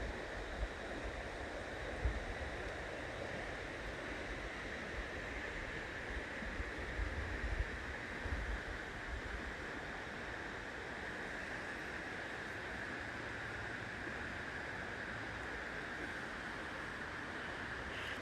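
A river flows at twilight on the East Coast, a faint, steady rushing wash of water heard from a distance, with light wind and no voices.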